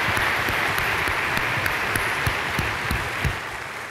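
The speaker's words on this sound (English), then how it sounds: "Let's give it a round of applause for Carl and Tiger." Keynote audience applause at a large tech conference, steady dense clapping from a big crowd lasting the whole stretch, with a few louder individual claps near the front.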